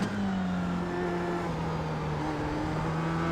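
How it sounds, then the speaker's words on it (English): An F3 race car in iRacing at Interlagos holds a steady, loud engine note that climbs gradually under full throttle out of a corner. The sound is continuous and close, with no talk over it. "get on that apex and really put the throttle down now"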